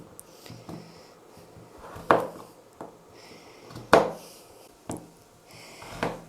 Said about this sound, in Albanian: Kurse patatet t'i presim në këtë lloj mënyre.